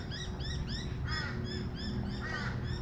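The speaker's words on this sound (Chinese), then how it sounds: "这里好静啊，全都是鸟叫声" Crows caw repeatedly in short hoarse bursts while smaller birds chirp around them in a quiet waterside residential area on Australia's Gold Coast. The calls sound moderately distant, and no one speaks.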